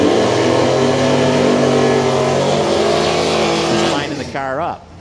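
Big drag-style race cars, including Nova wagons and a Falcon, roar loudly down a racetrack with a sustained engine drone that shifts pitch and fades away at the end, with a commentator talking over it.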